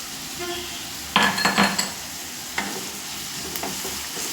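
A spoon stirs freshly pounded ginger-garlic paste in a frying pan, with a burst of scraping clinks and sizzle at close range, then a couple of lighter taps over a soft background hiss.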